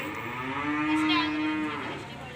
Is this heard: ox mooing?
yes